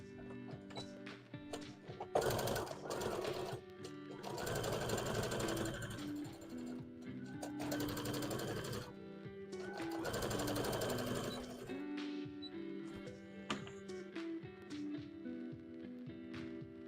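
A sewing machine stitching King Dedede Kirby plushies, running in several fast, whirring bursts of a few seconds each, separated by short pauses with faint handling noises.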